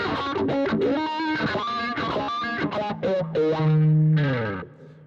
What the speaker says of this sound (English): this is the wah before the distortion